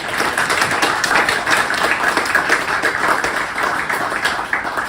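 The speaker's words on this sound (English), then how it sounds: "I do want to give these guys a round of applause quickly" Audience applause at a Sydney design talk event, several seconds of steady, dense clapping from a room full of people with no speech over it.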